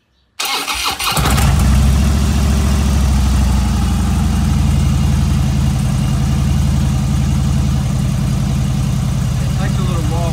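A Harley Dyna motorcycle engine cranks and fires after a brief silence, then settles into a loud, close, lumpy idle that throbs steadily, with a voice speaking over it.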